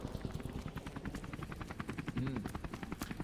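Helicopter in Modern Warfare Remastered, a loud, close rotor thumping in a fast, even pulse with engine whine, continuous throughout.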